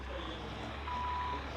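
Reversing alarm from a vehicle in the Car Parking Multiplayer game: a steady electronic tone sounds briefly over a constant engine-like hum, with no talking.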